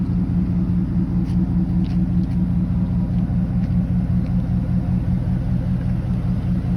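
A 2008 Dodge Ram 1500 Lone Star edition with dual exhaust idles steadily, giving a low, even rumble close by with no voices.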